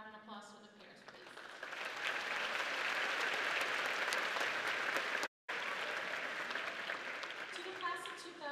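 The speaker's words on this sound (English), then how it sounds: "A round of applause for the parents, please." A large audience at a high school graduation ceremony gives the parents a long, steady round of applause that builds and holds for several seconds. A speaker's voice is heard at the start and end.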